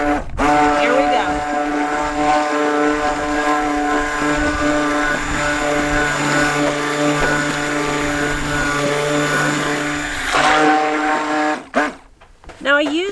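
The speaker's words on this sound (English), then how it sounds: "using my stick blender, I'm going to burp it" A stick blender whirs in loud, steady bursts as it mixes lye into oils for cocoa mint goat milk soap, cutting off sharply near the end with brief pauses.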